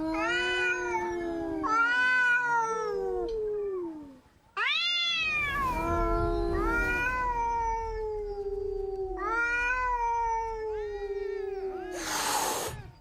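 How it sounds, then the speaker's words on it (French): Cats on an island yowl and caterwaul while fighting, in long, rising and falling cries, several voices overlapping in a tense exchange, with a brief hiss-like burst near the end. "Les bagarres entre chats sont fréquentes et l'île résonne de leurs cris déchirants."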